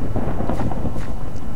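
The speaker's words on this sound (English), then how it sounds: "And it is snowing, and it is thundering." Thunder rumbles through a snowy video game scene, a loud, sustained low roll with a steady rain- or wind-like wash and brief swells, with no talking.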